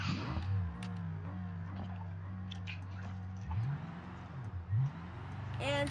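A loud car engine drones steadily while driving along a road, its pitch sweeping up and down through several revving accelerations, with a brief rise near the end.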